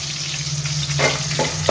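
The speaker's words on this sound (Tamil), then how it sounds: "கருவேப்பிலை போட்டு நல்லா வதக்கணும்." Curry leaves sautéing in hot oil for fish curry, a steady close sizzle and crackle with a couple of brief stirring scrapes near the end, no voices.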